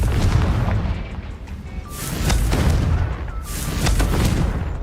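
Confringo fire spells explode in Hogwarts Legacy as repeated low booming bursts, two heavier blasts standing out over a dense, rumbling game soundscape, with no talking.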